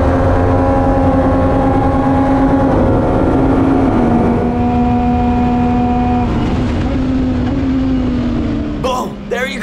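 Legends race cars roar around the track in an Italian series race, engines droning loudly and close with sustained, shifting tones as cars run nose to tail, then a quick burst of noise near the end.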